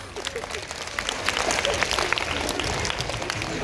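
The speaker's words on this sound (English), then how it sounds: "Please give a big round of applause." Applause from an audience at a school special assembly, a brief burst of clapping mixed with crowd murmur and some nearby voices, fairly loud and busy.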